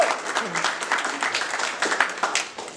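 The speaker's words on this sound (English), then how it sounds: "not everybody clapped for that" Applause from a theater audience after a card trick at a closeup magic show, a scattered patter of claps rising and falling with no one speaking.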